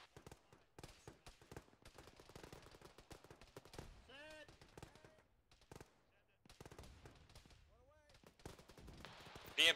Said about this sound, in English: We got tank rounds coming in.